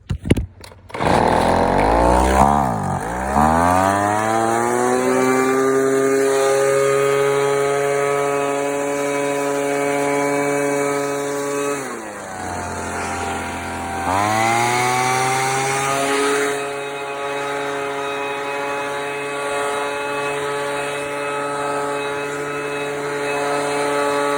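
A Craftsman red 25cc gas leaf blower, just after carburetor cleaning and fuel line repair, starts and runs loud and close with a steady two-stroke whine, then dips to idle twice and revs back up.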